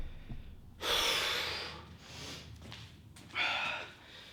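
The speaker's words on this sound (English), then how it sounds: "Sorry about all this breathing, people." Heavy, close breathing during a shoulders and traps workout, with sharp gasping inhales and puffing exhales in two loud bursts and quieter panting between, no talk.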